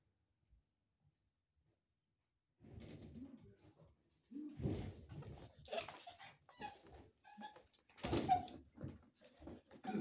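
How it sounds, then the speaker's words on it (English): A happy dog greets its owner returning home with excited whimpers and cooing whines, rising after a quiet start into close, busy bursts of vocalizing. "Y'all wanna see a happy dog?"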